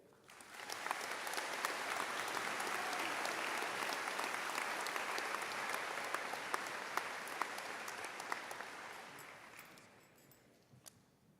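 Sustained audience applause at a high school class of 2022 graduation ceremony following a student speech, a broad crowd of clapping that swells quickly, holds steady, then tapers off near the end.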